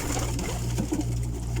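Pigeons kept by a hobby breeder in Saudi Arabia give low, throaty coos, repeated close by in a soft rhythm over a steady background hum.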